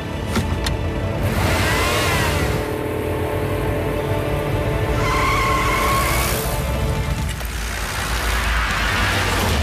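Cartoon jeep driving hard and skidding, a loud continuous engine roar with squealing tires sliding through turns, steady and close with no talking.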